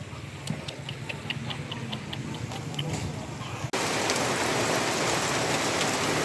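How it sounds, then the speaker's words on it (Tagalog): Continuous typhoon rain pattering steadily on a surface, with scattered drips ticking over it, then the downpour grows louder and denser. "walang tigil ang ulan"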